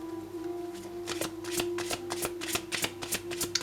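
Oracle cards are shuffled by hand for a reading, a rapid series of crisp papery riffles and snaps in a quick irregular rhythm, close and fairly soft over a faint steady hum.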